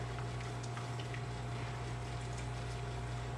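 Nitro cold brew coffee poured hard from a can into a glass gives a continuous foamy, bubbling liquid rush at steady level over a low hum, with no talking.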